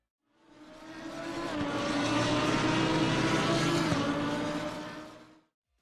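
A race car engine in the Assetto Corsa racing game gives a loud, steady, harmonic drone that fades in, holds for about five seconds, then cuts off, with no talking.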